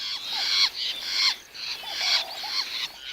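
Grey-backed fiscals near a nest squawk in repeated harsh, rasping bursts, several close birds calling in an uneven rhythm, fairly loud and alone without speech.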